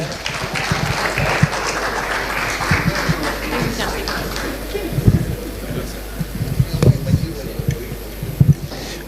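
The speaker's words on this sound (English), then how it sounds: "Ladies and gentlemen, a round of applause for the Smart Switch System, Namgwima Samuel." An audience claps after a pitch at a presidential pitch competition. The applause is fairly close and mixed with sharp individual claps and voices.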